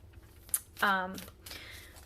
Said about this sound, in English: So I am going to shuffle to do the week ahead spread.